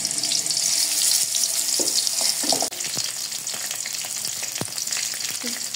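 Salted, turmeric-coated koi fish hit hot mustard oil in a heated wok, producing a loud, continuous crackling sizzle with a few sharp spatters and knocks as pieces settle.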